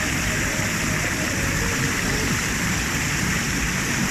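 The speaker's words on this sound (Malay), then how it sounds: "Okay, you guys boleh tidur di bawah air terjun" Broadband roar of a waterfall at Lata Berangin, a steady, loud rush of falling water close by, constant throughout with no voices.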